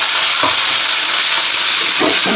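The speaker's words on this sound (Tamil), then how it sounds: "கருவேப்பிலை போட்டதுக்கப்புறம் பச்சை மிளகாய் வெங்காயம் வெங்காயத்தை போட்டு" Onions and green chilies fry in hot oil with curry leaves for rava kichadi. A loud, constant, close-up sizzle hisses throughout, with a couple of soft stirring knocks near the start and end.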